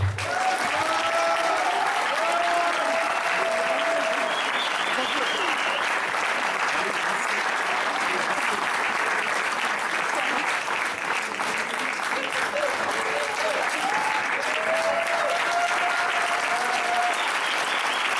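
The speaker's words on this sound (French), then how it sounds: "Et on peut l'applaudir très fort." A crowd at a wedding fair in Saubrigues applauds loudly and continuously, a dense, even roar of clapping sustained for the whole stretch, with faint voices and whistles mixed in underneath.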